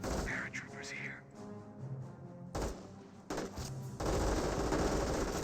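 Bursts of .30 cal machine gun suppressing fire in Company of Heroes, a World War II strategy game, rattling out in sustained loud volleys over game battle noise and commentary.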